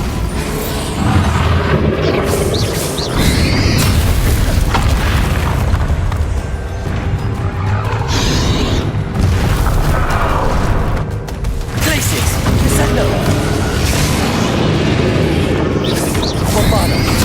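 The Bombarda blasting spell in Hogwarts Legacy sets off repeated loud booming explosions during combat, with heavy bursts arriving every few seconds over a dense, continuous battle din.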